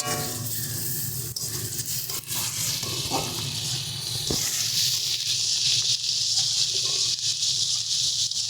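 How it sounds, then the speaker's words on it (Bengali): Spice paste with chili powder and salt fries for a jackfruit and prawn curry, giving a continuous close hiss and sizzle that swells slightly in the second half, with faint stirring knocks. "সমস্ত কিছু দিয়ে ভালো করে কিন্তু মশলাটাকে আমরা কষিয়ে নেব।"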